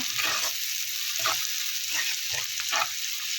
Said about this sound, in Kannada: ಈರುಳ್ಳಿಗೆ ಸ್ವಲ್ಪ ಉಪ್ಪು ಹಾಕಿದ್ರೆ ಬೇಗ ಇನ್ನೂ ಫ್ರೈ ಆಗಿಬಿಡುತ್ತೆ.